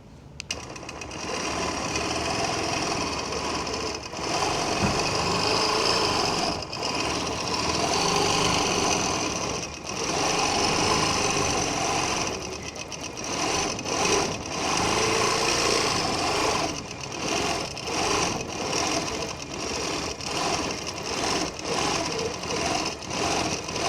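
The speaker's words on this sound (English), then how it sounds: "So I'm going to pull that bobbin up, do my locking stitch." A sewing machine stitches steadily through fabric in a stencil project, its motor whirring close and continuous with short pauses and restarts between runs of stitching.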